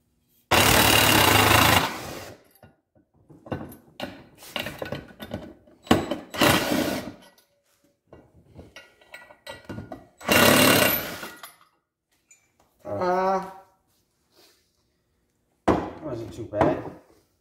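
Power driver running screws into the panels of a Polaris RZR 1000 XP side-by-side, in several loud whirring bursts of a second or two each, separated by short pauses and handling noise.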